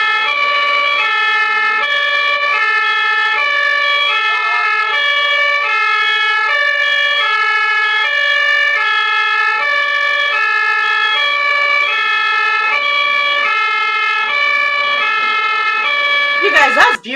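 A German ambulance siren wails in a loud, steady two-tone alternation close by on a road, repeating evenly for many seconds before a sudden rumble of handling noise cuts in at the end.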